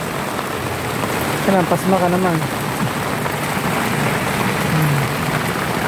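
Steady heavy rain hisses continuously on a street in Marikina while someone speaks briefly over it, the downpour loud and close throughout.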